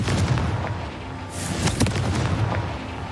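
The Confringo fire blast spell from the Hogwarts Legacy video game erupts in a loud burst, with a roaring boom swelling midway over an ongoing rumble of blasts.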